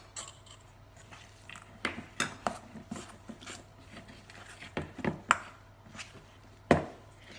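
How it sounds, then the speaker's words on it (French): Ground almonds and raisins are stirred in a bowl, giving irregular scraping and knocking strokes with several sharp utensil taps against the bowl, close and fairly loud in a quiet kitchen. "donc je mélange le tout"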